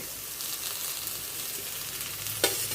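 Potato, onion, chilli, garlic and ginger frying together for a soya mushroom keema, a steady moderate hiss of sizzling oil with one sharp scrape or clink near the end, no voices.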